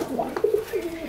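Racing pigeons, adult breeders alongside very young squabs, give soft low cooing calls in a short close burst, with faint rustling and no talk.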